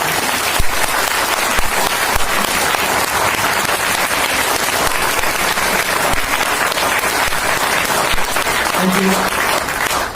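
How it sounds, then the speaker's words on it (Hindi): Loud, continuous applause from a seminar crowd, a dense roar of many hands clapping for ten seconds with a few sharper claps standing out near the front. "तो एक बार जोरदार तालियां बजा के देखो।"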